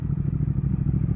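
A 2019 Triumph Speed Twin motorcycle engine gives a steady low burble with small irregular pops, close and fairly loud throughout a brief stretch, with no talk.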